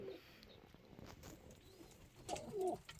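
Pigeons in a loft, some with young chicks, give faint soft coos and rustles at close range, growing a little louder toward the end.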